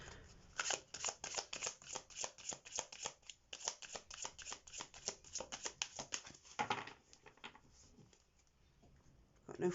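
Tarot cards are riffled and shuffled close by in a quiet room, making a steady, soft stream of rapid card flutters that lasts most of the time before tapering off.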